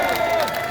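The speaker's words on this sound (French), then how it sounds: "on peut applaudir très fort" Crowd at an outdoor French patriot rally applauding together, a steady dense wash of clapping and cheering at full volume that holds unbroken through the short moment.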